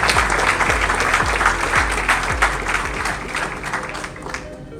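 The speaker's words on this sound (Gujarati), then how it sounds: "એક વખત ફરીથી જોરદાર તાળીઓ" Audience applause fills a business event, sustained dense clapping from a crowd that holds steady and slowly tapers toward the end, with some voices mixed in.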